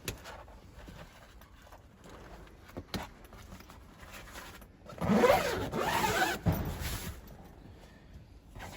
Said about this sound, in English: So the panoramic canvas basically unzips